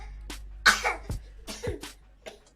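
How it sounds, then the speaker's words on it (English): A child produces a string of exaggerated fake coughs, about five short forced bursts in quick succession, close to the listener. "show people you know how to fake cough too"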